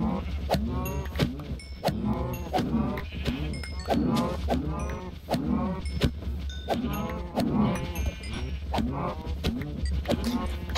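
Cows mooing in the video game Minecraft, a dense herd lowing over and over in overlapping calls, loud and close, with constant low rumbling and no talk.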